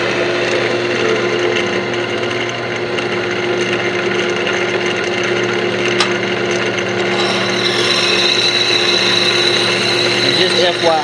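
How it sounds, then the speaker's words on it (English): A wooden duck call barrel is drilled on a lathe, producing a steady, loud whirring hum with grinding friction noise that stays constant and close, rising slightly in brightness toward the end. "drilling on the lathe is way more effective"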